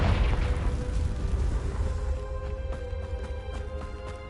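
A Confringo fire spell exploding in the game Hogwarts Legacy, a loud booming burst at the start that decays into a crackling, ringing tail with faint tonal shimmer.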